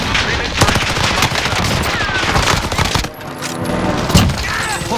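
Loud, rapid automatic gunfire rattles in close bursts during a Warzone multiplayer match in a storage town, with a short pause and a heavy shot near the end. A voice talks over the shooting.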